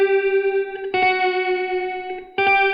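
Sustained electric guitar notes drenched in reverb, with tremolo-arm pitch wobble, in a studio song mix; two fresh chords strike and ring out alone, fairly loud and close.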